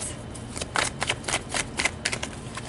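Tarot cards are shuffled up close in quick riffling bursts, a crisp flutter repeating several times in steady succession.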